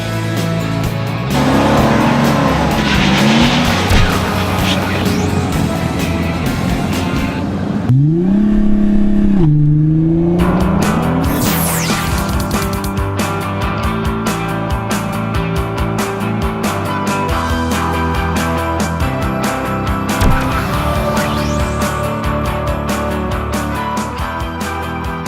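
A 2014 Mercedes-Benz E250 BlueTEC with a 2.1-liter inline-four bi-turbo diesel drives by, its engine rising and falling through revs with a clear whining shift partway, steady and close.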